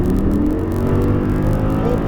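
An Audi R8 sports car accelerates hard as the throttle is reopened on a driving course, its engine roaring loud and close in a sustained rising note.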